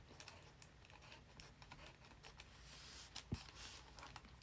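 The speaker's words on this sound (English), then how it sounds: "I need to sharpen this pencil." Pencil being sharpened while drawing an eagle, soft dry scratchy grinding strokes in quick irregular bursts, close and quiet with no talking.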